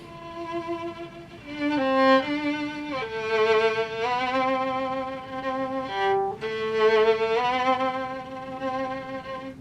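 A bowed violin plays a smooth, sustained phrase from a Bach piano piece, sliding slowly between notes as it shifts position; no talking.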